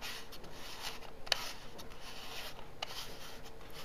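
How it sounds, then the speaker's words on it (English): Part of a Panasonic Lumix LX3 camera is being unscrewed: a faint, continuous rubbing and grinding of threads turning up close, with a couple of tiny clicks. "You can unscrew this part of the camera like that."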